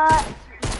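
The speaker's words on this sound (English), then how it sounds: "Why are you shooting the gun?" Gunfire in the Fortnite video game, a short burst of shots heard as two loud cracks with a brief pause between them, close and abrupt, and no speech within the burst itself.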